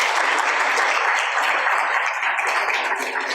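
Steady, dense applause from a lecture audience welcoming a speaker introduced at a distinguished lecture series, a continuous crowd of clapping hands at even loudness throughout, with no voices on top.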